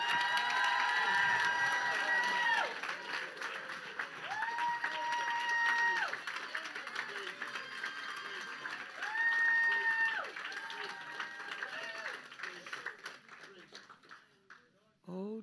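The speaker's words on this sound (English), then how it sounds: "Now start clapping and praising really loud." A church congregation claps and cries out in praise, loud crowd noise with sustained, wavering voices and shouts layered over clapping, easing off toward the end.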